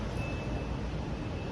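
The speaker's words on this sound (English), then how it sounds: "close to some of the traffic there in Tel Aviv" City street traffic in central Tel Aviv rumbles close by with a low, steady roar, and a thin high reversing beep tone sounds faintly over it.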